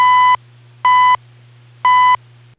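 Shortwave time signal from the NRC CHU station in Ottawa, three loud, evenly spaced pure-tone beeps about a second apart over a constant low hum and faint radio hiss.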